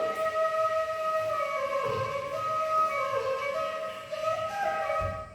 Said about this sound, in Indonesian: Jadi ini adalah suara seruling bambu.